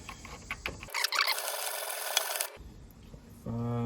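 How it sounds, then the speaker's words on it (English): A three-blade Woodsman broadhead is sharpened by hand, with one long, close scraping stroke in the middle and quieter rubbing and tapping before and after. "when I sharpen this final side here"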